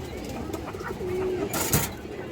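A male pigeon coos once in a soft, low tone amid a quiet background, followed by a brief rustle or flutter.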